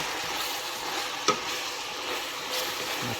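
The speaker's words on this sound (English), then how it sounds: "You want to mix that around, cook it until the onions get translucent" Onions and garlic sizzle steadily as they fry in a pan, with a soft crackling hiss, a single sharp clink of a utensil against the pan partway through, and light stirring scrapes.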